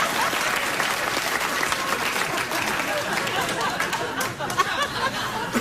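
A late-night talk show studio audience breaks into sustained, loud applause mixed with cheering and some laughter, a dense steady clatter of clapping lasting throughout.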